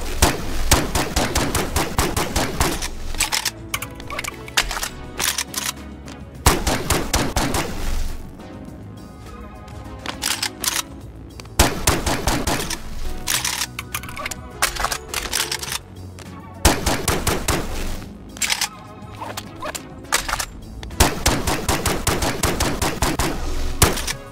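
A Starfield weapon mod fires in the VR game Bonelab, unleashing loud sustained bursts of rapid gunfire broken by short pauses, with occasional heavier impacts across the stretch.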